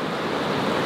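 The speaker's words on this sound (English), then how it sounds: "But look at this water running," A fast-flowing stream at an Australian campground gives a continuous loud rushing wash of water with a steady wind-like roar and no voices.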